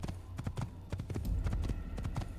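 Rapid, rhythmic hoofbeats of a horse galloping along a road in Assassin's Creed, close and continuous with no talk over them.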